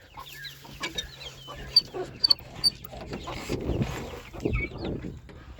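Hens cluck softly nearby, with chicks newly hatched under a broody hen, scattered faint peeps and a few sharper chirps over a low, quiet background.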